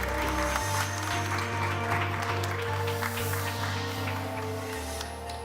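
Steady applause from an audience at a live panel event at IFA 2019, dense clapping at an even level with a low hum beneath, no voices standing out.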